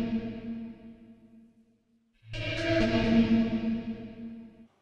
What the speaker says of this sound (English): The PhoenixVerb is tailored to get natural, authentic depth, space and reverb in your mixes.